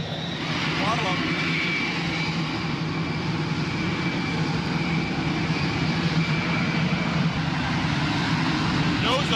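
An F-35 fighter jet engine throttles up into a loud, sustained broadband roar that holds steady throughout.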